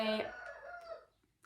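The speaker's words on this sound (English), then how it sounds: "I don't know if you can hear my chickens outside, they're really loud, my window's open." A rooster crows from outside through an open window, a single drawn-out call that fades, followed by a faint brief cluck.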